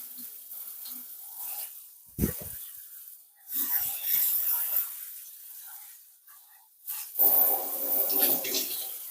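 Water runs and splashes over raw potatoes being rinsed of starch in a kitchen, uneven bursts of rushing flow and sloshing with quieter pauses between.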